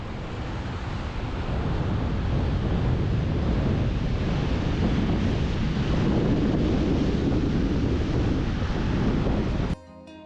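Ocean surf at Oceana beach in Digha, heard from a watch tower, forms a continuous low roar heavily buffeted by wind on the microphone, then cuts off abruptly near the end.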